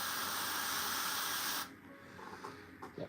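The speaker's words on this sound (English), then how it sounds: "shoop, shoop, spraying everything" An airbrush sprays paint onto a Warhammer miniature in a steady, close, loud hiss for about a second and a half, then cuts off abruptly, leaving faint handling clicks and small knocks.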